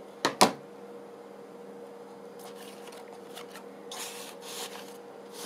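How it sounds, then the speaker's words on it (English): Two quick, crisp snips as a piece of cotton is trimmed while filling a journal pocket, followed by soft rustling and rubbing of paper and fabric nearby. "Just trim off this piece of cotton here"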